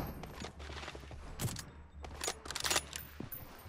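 Rapid gunfire bursts in an online team deathmatch shooter game, a mix of near and farther shots crackling in uneven volleys over a steady game background, with no talk.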